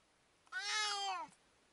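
One long, insistent meow from a nearby cat, clear and loud, held for most of a second against a quiet room.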